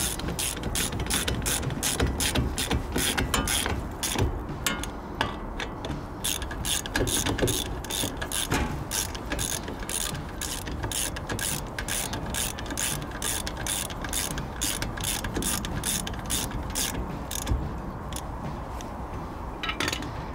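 A ratchet tightens the brake back plate bolts on a Triumph Spitfire with fast, even clicking. It runs close and continuous for about twenty seconds, with faint metallic clinks mixed in.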